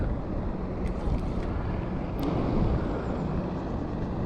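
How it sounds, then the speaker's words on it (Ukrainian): A military police motorboat passing on open water, its engine a steady low drone blended with wind noise and water wash, moderately distant and continuous with no talk. "Катер, хлопці, воєнний."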